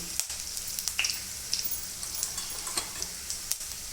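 Asafoetida and spices crackle and sizzle in hot oil for a dhaba-style dal tadka, a steady bright frying hiss with scattered sharp pops, close and alone.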